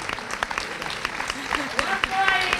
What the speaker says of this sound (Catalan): Un fuerte aplaudiment per al abuelo